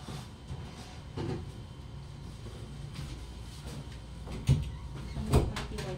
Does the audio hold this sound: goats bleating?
no